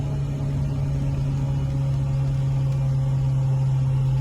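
A car engine runs under partial throttle, staying below half throttle, giving a steady humming drone with a strong low tone that holds unchanged for several seconds, loud and close with no talking.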